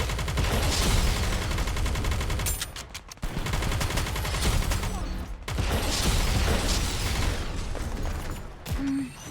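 Dense, rapid automatic gunfire in the mobile shooter NIKKE: Goddess of Victory, a loud continuous rattle with brief pauses and mechanical clicks between bursts.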